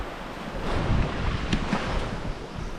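Surf and wind at Paradise Beach, Chomaka Bottom, St Vincent: a continuous broad wash of waves with gusty wind buffeting the microphone, a swell of surf rising partway through, and no voices.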